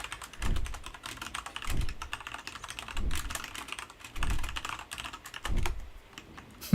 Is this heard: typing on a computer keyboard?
yes